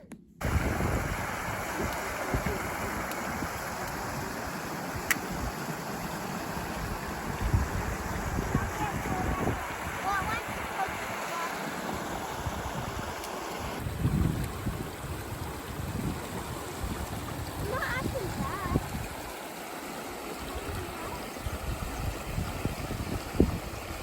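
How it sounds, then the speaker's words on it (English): A steady wash of flowing creek water runs throughout beside a hiking trail on Mount Bierstadt, Colorado, mixed with wind buffeting and occasional people talking nearby. "trail has taken us right next to this creek"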